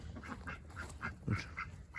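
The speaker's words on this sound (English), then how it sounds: "Ducks are mating." Several short, raspy quacks from mating ducks call out in quick succession outdoors, close by and moderately loud, with no talking.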